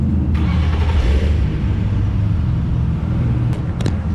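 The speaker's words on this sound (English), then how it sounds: "Now let's hear the blue car." A blue BMW 1M sits idling, its engine giving a steady low rumble with slight surges. It stays loud and close throughout, with no voices over it.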